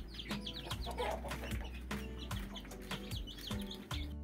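Heritage chickens and chicks in a brooder cluck and cheep repeatedly in busy overlapping calls, nearby and moderately loud, with no talking.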